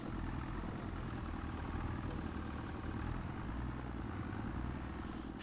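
Tractor engine idling in Farming Simulator 25, a steady low throbbing hum with dense harmonic rumble, held at a constant level for the whole short clip with no talk.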